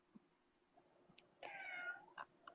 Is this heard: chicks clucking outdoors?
no